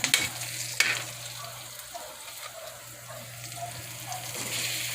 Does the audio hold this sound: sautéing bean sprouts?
yes